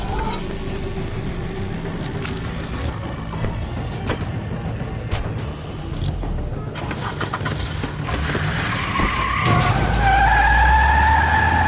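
In The Wolf Among Us video game, a car skids loudly and close with a sustained rough tire-scrubbing roar, building in intensity toward the end as the engine rumble deepens.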